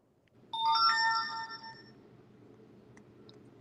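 A phone ringtone plays a short melodic chime of stacked tones for about a second, loud over faint room noise, then stops, leaving a quiet background hum.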